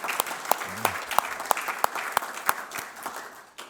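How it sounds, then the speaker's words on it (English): A small audience claps at a renewable energy grid talk, a sparse patter of individual claps with distinct sharp hits, moderately near, fading out toward the end. "just a quick round of applause for those guys and for Fraser"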